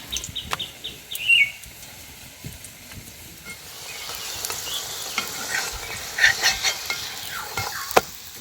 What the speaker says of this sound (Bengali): দু পিঠ এইভাবে কিন্তু লাল লাল করে ভেজে নিচ্ছি